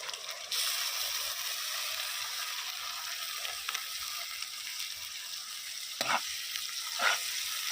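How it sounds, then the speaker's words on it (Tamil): Onion with packaged ginger-garlic paste frying in a pan for a hotel-style chicken chilli fry, giving a steady close sizzle with a few brief stirring scrapes near the end. "இதுவும் பச்சை வாசம் போகிற வரைக்கும் நல்லா வதக்கிக்கலாம்"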